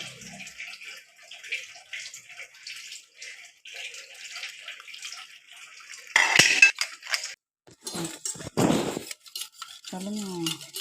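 Jaggery is stirred into rice flour batter for paniyaram in a pot: soft rhythmic scraping, then louder clinks of a spoon against metal and a few sharp knocks, close by.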